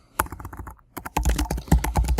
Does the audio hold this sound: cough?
no